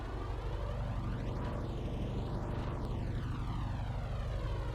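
Simulated OV-10 Bronco twin-turboprop engines drone steadily while the aircraft taxis in a flight simulator game, a continuous loud whine with sweeping tonal shifts and no talking.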